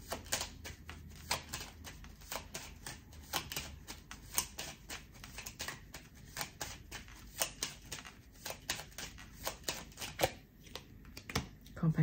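Cards are handled and shuffled for a tarot-style reading, a long run of quick riffling flicks and taps close up, with someone speaking French quietly at times.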